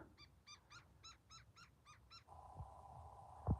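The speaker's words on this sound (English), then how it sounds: "I think that's a woodpecker." A bird in the Arizona desert near saguaro cactus, taken for a woodpecker, gives a quick series of about eight evenly spaced, clear call notes, followed by a steady whistling tone and a couple of low thumps.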